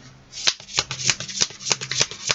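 Animal tarot cards are shuffled by hand in a quick, close run of crisp riffling snaps, roughly a dozen sharp flicks in a steady rhythm with no voice over them.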